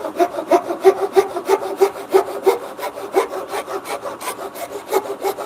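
A hand saw cuts wood near a knot for a dovetail joint in a home workshop, with rapid, rhythmic back-and-forth rasping strokes, close and clear, and no talking.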